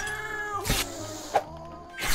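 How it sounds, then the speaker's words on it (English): Cat in the video game Jazzpunk: two loud, drawn-out meows separated by a brief clicking blip, played close over a soft musical background with no talk. "I'm playing as a cat."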